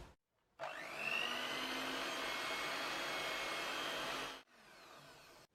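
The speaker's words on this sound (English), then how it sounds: "mix on a low speed, or the lowest that I can get with this hand mixer anyway" Electric hand mixer on its lowest speed beating coffee cookie dough, a steady whirring drone that starts abruptly, runs about four seconds and cuts off, close and alone.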